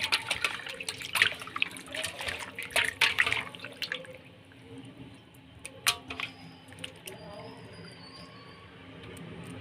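Raw fish is washed by hand in water in a home kitchen, with splashing and sloshing, then dripping and trickling, close up, under a person's talking.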